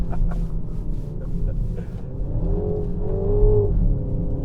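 A 2025 JCW MINI Countryman pulling hard at speed from inside the cabin, a steady loud engine rumble and road roar that swells as it accelerates.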